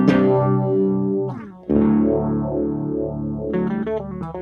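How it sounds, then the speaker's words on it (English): Electric guitar played through the phaser on a Donner Triple Threat multi-effects pedal, sustained distorted chords with a sweeping, whooshing filter motion rising and falling, loud and close, a brief dip before the sweep resumes. "Let's see what the phaser sounds like."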